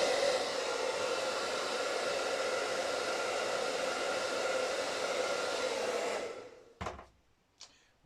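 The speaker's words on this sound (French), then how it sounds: "Petit coup de sèche-cheveux." A hair dryer blows in a constant, close whoosh while softening stickers on a Tamiya M05 RC car body, then switches off and winds down, followed by a couple of faint handling knocks.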